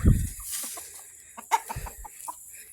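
Roosters clucking at close range, a burst of low throaty clucks at the start and another cluster midway, with scattered softer bird calls between them.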